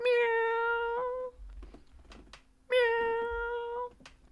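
A cat gives two long, loud, close meows separated by a pause, with soft rustling and faint handling noises between the calls.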